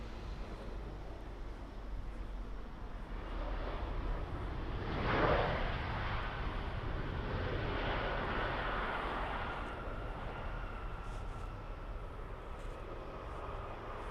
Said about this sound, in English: this is obviously one of their probably one of their older 737s